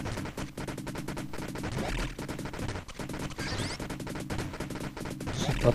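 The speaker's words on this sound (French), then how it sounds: "on a le tir normal dans les 8 directions, et puis... On a la petite bombe" Rapid, constant shooting from Capcom Generations disc 4 on PS1 crackles along with repeated sharp blasts from small bombs over game music. The burst sounds are loud and dense throughout.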